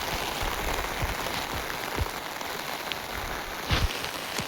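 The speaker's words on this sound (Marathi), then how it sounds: "हा बघा पाऊस बघा किती भरला आहे" Rain pours steadily in a dense, even patter, with a few louder drips and splashes landing close by.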